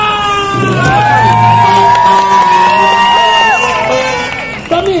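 A crowd in the historic center of Oaxaca, Mexico, shouting and cheering in loud, close unison, with long sustained whoops and cries that overlap for several seconds before trailing off.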